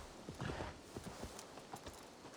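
Horse hooves clip-clop in the video game Assassin's Creed Valhalla, a quick irregular run of soft hoofbeats heard faintly under a steady hiss of background noise.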